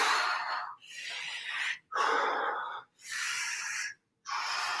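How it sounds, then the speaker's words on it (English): A person breathing in an exaggerated way during a workout breathing exercise, with four long, loud, airy breaths in steady rhythm, close to the listener and separated by short pauses. "So really over-exaggerate your breathing when you do this."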